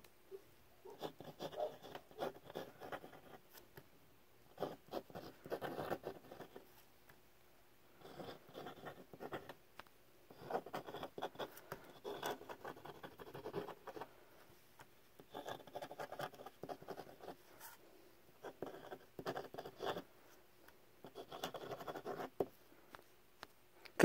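A Hero 360 Degree fountain pen scratches across paper in close, faint bursts of writing, several strokes separated by short pauses, with a slightly rough, scratchy texture.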